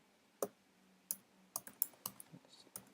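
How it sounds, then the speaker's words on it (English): Fingers tap on a computer keyboard in a short, irregular burst of crisp clicks, close and fairly quiet over a faint background hum, no talk. "the integer that the users type in their keyboard"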